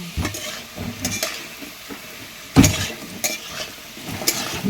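Mushrooms frying in a pan at home, with a steady close sizzle broken by repeated scrapes and clinks of a spoon stirring against the metal, including one louder knock midway.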